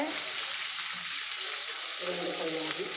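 Sliced onions sizzle steadily in hot oil with urad dal, mustard seeds and curry leaves while a potato kurma for puri is being cooked, a close continuous frying hiss with brief stirring touches and some faint voice in the background.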